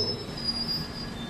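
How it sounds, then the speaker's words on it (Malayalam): A passenger train pulls into platform one at Kannur railway station, wheels giving a steady high squeal over a low rumbling roll, sustained and fairly close. "കണ്ണൂർ റെയിൽവേ സ്റ്റേഷൻ്റെ ഒന്നാമത്തെ പ്ലാറ്റ്ഫോമിലേക്കാണ് നമ്മുടെ ട്രെയിൻ ഇപ്പോൾ എത്തിക്കൊണ്ടിരിക്കുന്നത്"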